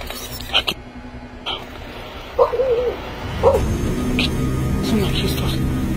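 A pack of six or seven dogs barks in scattered bursts at a moderate distance in Ecatepec, with a few yelps rising over a steady rumbling background and occasional voices.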